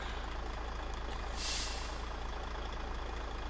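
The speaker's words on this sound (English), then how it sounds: "I can't remember if this is the original diesel engine it had in it in Mud Runner, but it sounds like so familiar" A modded diesel truck engine in the video game SnowRunner runs steadily at a faint, constant drone, with a brief hiss of air rising midway through.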